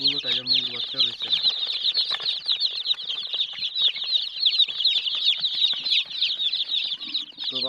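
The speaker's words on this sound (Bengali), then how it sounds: "এখানে অনেকগুলো টাইগার মুরগির বাচ্চা রয়েছে।" A crowd of Tiger breed chicken chicks peeps continuously in high, busy chirps, loud and close, with someone speaking briefly at the start and end.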